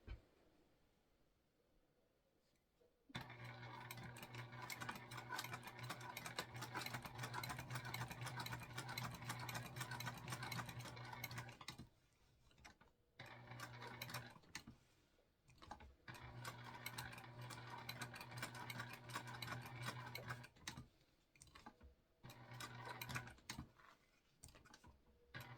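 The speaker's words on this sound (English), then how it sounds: "I am sewing on a Juki TL 2010Q as usual" Juki TL 2010Q sewing machine top stitching a sling bag with Tex 35 thread, a fast steady whirring stitch run that starts after a quiet lead-in and stops and restarts in several bursts, close and loud.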